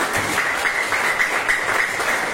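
Middle school students in a classroom clap for a classmate, a brisk, continuous patter of many hands close by, lasting a couple of seconds without talk.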